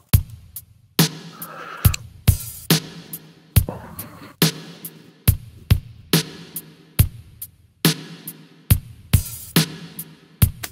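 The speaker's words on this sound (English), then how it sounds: "Just like a typical rock drum pattern." A simple rock drum groove built from live drum samples, with steady kick, snare and hi-hat hits repeating in an even loop, loud and up close, with no voices.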